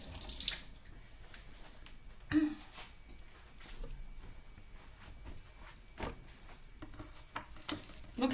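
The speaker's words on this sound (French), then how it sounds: "je me rince les mains" Hands rinsed under a running kitchen tap while sushi and maki are made at home, a steady wash of water with a few splashing bursts, close and moderately quiet.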